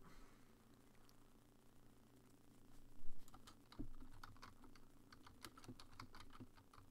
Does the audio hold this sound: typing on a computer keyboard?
yes